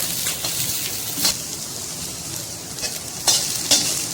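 Cabbage and green chilies frying in a pan, a steady close sizzle broken by several sharp crackles and spatters, with no voices.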